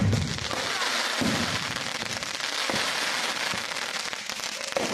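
Firecrackers burst continuously at a village festival in Alavantankulam, a dense, loud crackling barrage with occasional heavier pops, heard from some distance and filling the whole stretch without talk.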